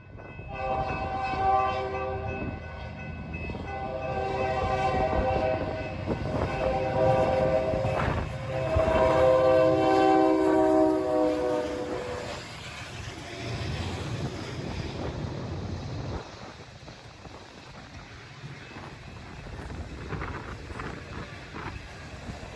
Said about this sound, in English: to catch the train at full speed.